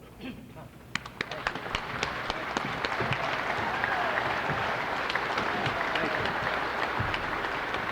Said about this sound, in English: give Ed a standing, rousing cheer of acceptance as he comes to the podium